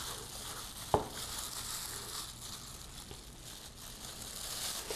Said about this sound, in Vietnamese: rồi là mình sẽ bỏ vào chiên.